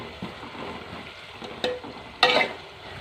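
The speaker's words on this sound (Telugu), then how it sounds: "ఉల్లిపాయ ముక్కలు, పచ్చిమిర్చి ముక్కలు, కరివేపాకు వేసానండి." Onions, green chillies and curry leaves fry in hot oil for a drumstick and tomato curry, making a continuous close sizzle with two sharp, brief bursts of crackling as the pieces are stirred.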